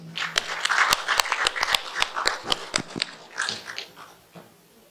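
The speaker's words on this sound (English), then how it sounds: "Give a big round of applause to Mr. Ashoka Rupasinghe." Dense applause from a crowd, sharp claps clustered together, loud at first and gradually thinning out toward the end.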